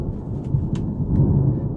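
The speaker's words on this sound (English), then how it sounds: "There's lightning around us. There's thunder everywhere." Thunder from an approaching storm rumbles low and continuous, with a few crackles on top, heard from outdoors with no talking.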